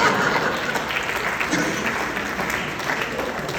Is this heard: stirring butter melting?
no